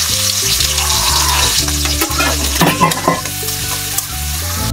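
Chopped onion drops into hot oil with dried chillies browned in a pan, giving a loud, steady, crackling sizzle that runs throughout beneath background music.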